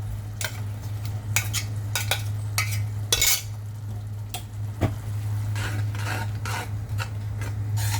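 Curry leaves, garlic, onion and spices for a chutney stirred and roasted in a pan, with a steady low sizzle under repeated scraping and clinking strokes of a spoon against the metal, close and moderately loud.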